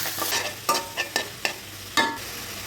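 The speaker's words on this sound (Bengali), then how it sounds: "এখানে দুই প্যাকেট নুডলস রান্না করবো আমি ভালো করে নেড়ে করে মিশিয়ে নিচ্ছি" Two packets of noodles with spices are stirred in a sizzling pan, the utensil scraping in about half a dozen close, distinct strokes over a soft frying hiss.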